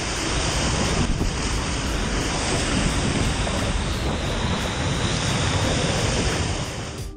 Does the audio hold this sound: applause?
no